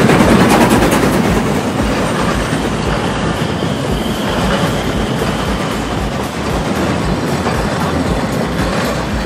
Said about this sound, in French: Il y a une petite locomotive qui fait tout le tour de l'île pour les touristes.